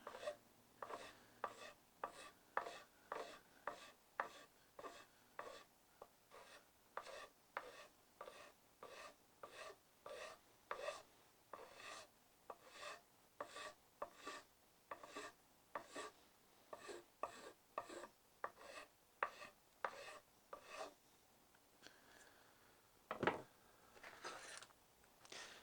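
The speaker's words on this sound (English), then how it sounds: "I'm just going to take a rasp and start rounding it off" A hand rasp rounding the palm swell of a wooden axe handle: steady rhythmic strokes, about thirty close rasping scrapes in an even back-and-forth pattern, with no talk.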